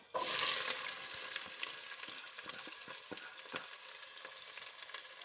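Onions frying in three to four spoons of ghee for a white lobia curry, giving a continuous close hiss that flares loudly at the start and then settles to a steady sizzle with light crackles.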